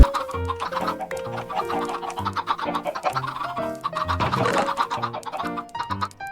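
Chickens cluck repeatedly over a bouncy, looping Minecraft tune, with several birds calling in quick succession.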